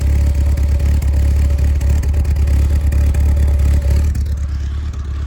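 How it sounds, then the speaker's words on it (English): A modified Honda Civic engine idles loud and steady with a low, continuous rumble and faint irregular clatter hinting at a slight misfire, tailing off slightly at the end. "It still sounds like there's a slight miss and we're still burning some fuel."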